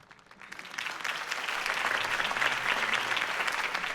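Crowd applause at a campaign rally in Batman: The Telltale Series swells from a quiet start into steady, sustained clapping and cheering that fills the space, with no voices over it.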